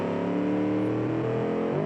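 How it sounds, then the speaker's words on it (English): A late-1960s muscle car engine in BeamNG.drive revs loudly and steadily, its harmonic pitch shifting slightly as the throttle changes, close and continuous with no talk. "Okay, that sounds like a muscle car."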